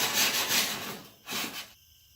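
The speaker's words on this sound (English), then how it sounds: "I like to take the sandpaper and I'm going to sand around the edge to get rid of any of the burrs" Sandpaper rubbed around the cut metal edge of a fire pit to knock off burrs, a close, rough scratching in a few strokes that stops abruptly near the end.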